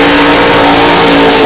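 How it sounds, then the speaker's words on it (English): An IROC Z28 Camaro drag car with a 548 cubic inch aluminum Rodeck racing engine does a burnout at a drag strip, a brief, very loud, dense roar of high-revving engine with squealing tire noise filling the whole clip. "Oh, what a burnout by Weddle."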